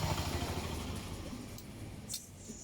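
TVS Stryker motorcycle engine running steadily in first gear, a continuous mid-low drone with no breaks, close and moderately loud.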